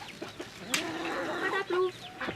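Chickens in a henhouse cluck and chatter nearby in quick, uneven bursts, one sharp squawk standing out among the overlapping calls.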